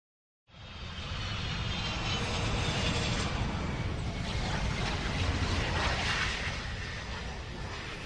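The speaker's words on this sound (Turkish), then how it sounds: "Sevgiyi getiren uçak bu olmalı." An airplane sound effect in a Turkish radio drama rises from silence into a steady, loud roaring engine drone. The drone holds broad and even, like a plane passing close overhead, with no voices over it.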